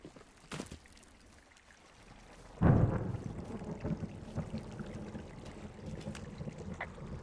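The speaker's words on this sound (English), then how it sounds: "Hey, I heard some thunder." Thunder in the video game Firewatch, a sudden deep rumble that swells and rolls on for several seconds after a quieter stretch.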